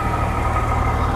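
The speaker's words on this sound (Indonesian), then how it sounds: "suara mesinnya halus," A Haryanto coach with new Piala Mas bodywork idling, a steady, smooth low engine rumble that fills the clip evenly, close by and fairly loud.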